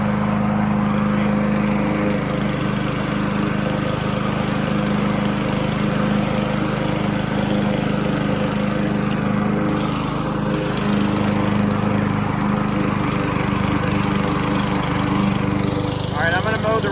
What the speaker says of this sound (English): I'm gonna mow the rest of this and I'll give you the verdict.